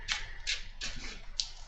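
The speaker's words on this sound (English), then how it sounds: "give my deck one final shuffle" Arkham Horror card game deck being shuffled on a table: four quick riffling bursts of cards in close succession, crisp and close, with no talking.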